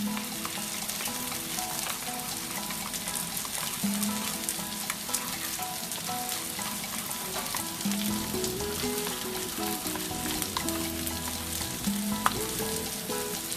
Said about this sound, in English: I'm just going to give that a good stir around whilst everything else is cooking